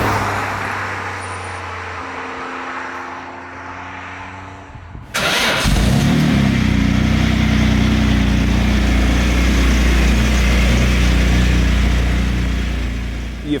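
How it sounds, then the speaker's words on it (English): A Jaguar XJ220 engine cranks over with a grinding starter whir, then catches with a sudden loud roar and settles into a heavy, rough, close idle with a mechanical rattle running steadily underneath. "when you start one of these engines is that there's a bag of spanners rattling around in the back of the engine bay"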